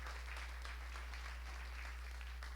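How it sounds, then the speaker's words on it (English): Applause at a San Juan tech meetup, a soft, dense patter of many hands clapping, distant and fairly quiet, steady for a few seconds. "Please give him an applause"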